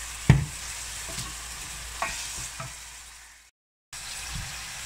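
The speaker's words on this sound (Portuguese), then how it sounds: "Sempre mexendo o risoto" Risotto being stirred in a frying pan on the stove: a few scraping spoon strokes over a soft steady sizzle, close and moderately quiet, with a brief dropout of silence near the end.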